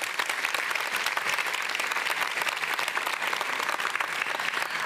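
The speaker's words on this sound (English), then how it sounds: "Can you give them a big round of applause?" Audience at a live cooking event held by City of Gold Coast and Gold Coast Libraries gives a big round of applause, dense and even clapping sustained throughout without a break.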